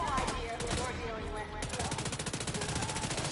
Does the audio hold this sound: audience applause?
no